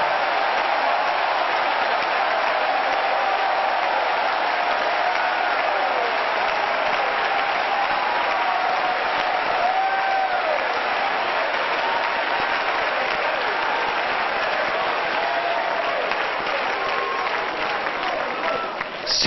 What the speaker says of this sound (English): Would you clap again and shout with your voice of triumph unto the Lord?